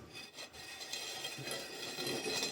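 A plastering float scrapes drying finish plaster off a window reveal, pressed flat against the sill and slope, making a continuous close gritty rasping with steady strokes and no talk.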